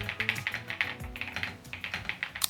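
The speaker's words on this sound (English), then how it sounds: "there's a very real satisfaction from typing on a keyboard that looks this good and sounds this" Typing on a mechanical keyboard with a steady run of close, crisp key clicks and clacks, heard alone with no talking.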